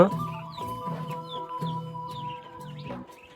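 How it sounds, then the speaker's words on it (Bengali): Domestic chickens kept in a converted rabbit hutch cluck close by in a quiet space, several short repeated clucks and calls coming in bursts with brief gaps between them. "তো আমার মুরগিগুলো দেখতে পারছেন মাশাল্লাহ অনেক সুন্দর"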